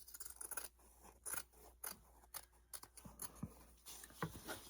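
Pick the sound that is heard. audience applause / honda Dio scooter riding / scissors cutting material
scissors cutting material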